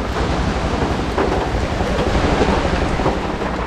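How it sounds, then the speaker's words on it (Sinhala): Heavy rain pouring steadily during a road trip from Kandy toward Talawakele, a dense, even wash of noise like a downpour drumming around a stopped vehicle, loud and unbroken without talk. "හොඳටම වහිනවා තාමත් ඇස්ස පායලා නැහැ"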